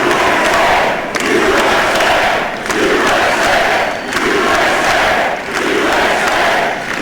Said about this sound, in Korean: 굉장히 그 환호 소리가 컸고요.